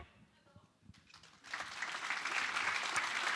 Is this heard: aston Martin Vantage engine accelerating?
no